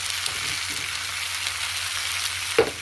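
A pan of fish curry masala with fried fish, potato and freshly added salt is stirred over a steady, close sizzle, ending in one sharp clink of the utensil against the pan.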